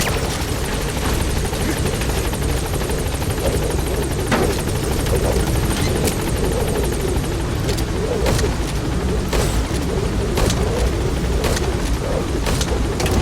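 B-Quad helicopter in Metal Gear Solid V: The Phantom Pain climbing from a landing zone, a loud, continuous rotor roar with sharp periodic thumps and crackles, steady throughout.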